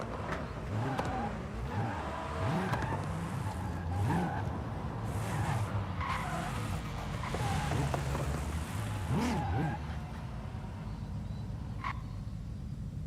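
A Toyota Supra drives on a highway in Forza Horizon 5, its engine note rising and falling steadily through the clip, with a few sharper bursts near the middle and a faint, busy background of other tones.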